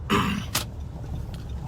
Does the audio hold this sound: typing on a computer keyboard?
no